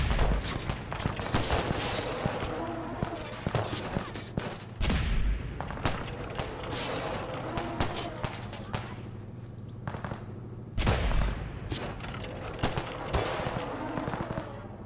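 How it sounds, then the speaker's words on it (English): Rapid sustained gunfire in Fallout 4, dense automatic bursts and overlapping shots filling the scene, loud and continuous with brief pauses, alongside a voice talking. "Motherfucker keeps shooting me from the side."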